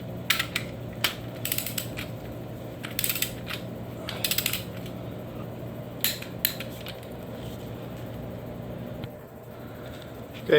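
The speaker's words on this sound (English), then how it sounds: "we're going to go ahead and torque these to 40 foot-pounds." A ratchet torques bolts to 40 foot-pounds on a 2014-2016 Kia Soul transmission, giving a run of sharp, close clicking bursts in clusters with pauses between, over a low steady workshop hum.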